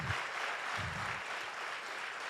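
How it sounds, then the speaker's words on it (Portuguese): Faint applause from a church congregation for the Lord, a soft continuous patter of clapping heard from a distance at low volume. "Pode dar um aplauso ao Senhor"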